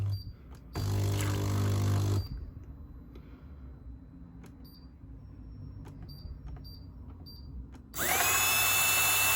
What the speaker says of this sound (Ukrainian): Помпа, але це на суху ми зараз включили.